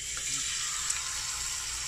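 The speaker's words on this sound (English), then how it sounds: "And we're gonna put the steak na." A steak sizzles in a hot pan, a steady close hiss of frying with no talking.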